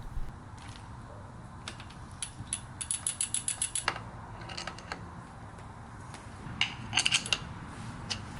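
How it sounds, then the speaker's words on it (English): A crank puller is worked off a Brompton bicycle's crank arm, making quiet mechanical ratcheting clicks in short rhythmic bursts with some metallic tool handling between them. "Again, thread the crank puller onto the crank arm and remove the crank."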